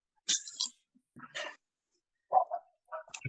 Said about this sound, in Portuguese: Tô escutando um latidinho meio baixinho mesmo